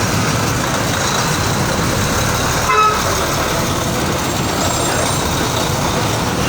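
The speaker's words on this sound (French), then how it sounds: "regardez l'embouteillage" A traffic jam with trucks and buses idling and rumbling, a short vehicle horn toot sounding near the middle over the steady engine drone.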